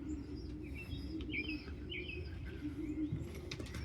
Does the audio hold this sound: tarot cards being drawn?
no